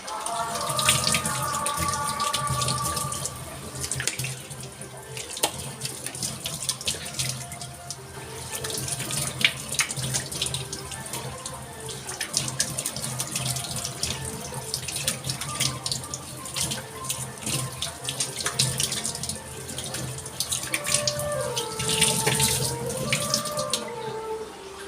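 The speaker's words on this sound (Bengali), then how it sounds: "চলো এবার আমি এটাকে মুখটা ধুয়ে নিই" A tap runs continuously into a basin while a face is washed, the steady stream broken by irregular splashes and dribbles as water is cupped and thrown, close and fairly loud throughout.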